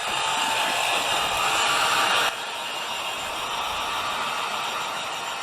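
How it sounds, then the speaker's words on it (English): A heat gun blows hot air while a skin is installed on a PS4 Slim console. It makes a steady, loud broadband whoosh that drops slightly in level partway through and continues unbroken, with no talking. "so that the heat gun sound isn't so loud for you guys"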